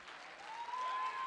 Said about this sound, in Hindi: ये तालियां तो बहुत ही कम है